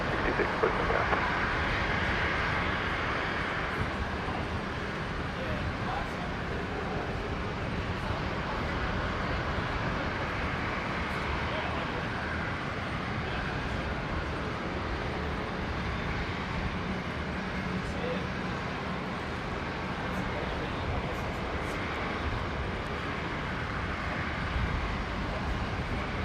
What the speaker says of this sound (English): Looking at the Qantas 73 there, which has just pushed back, just about to begin its taxi